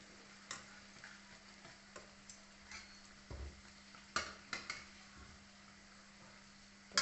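A spoon stirring warm, thickened sugar syrup for chandrakala sweets in a metal pan, soft scraping and clinking with occasional sharper taps against the rim, quiet and close over a low steady hum.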